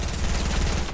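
Rapid AK rifle fire in a video game, a dense, continuous burst of loud shots lasting about a second with no pauses.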